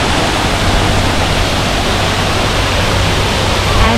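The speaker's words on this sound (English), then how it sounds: "the restaurant, which is just behind this waterfall" Nan Lian Garden waterfall, a steady, dense rush of falling water that stays loud and close from start to end, with no voices over it.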